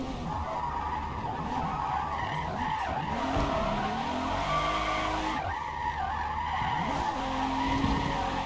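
A car drifts in Forza Motorsport, its tires squealing in long wavering skids over a continuous engine drone, loud and close, with sliding passes repeating throughout.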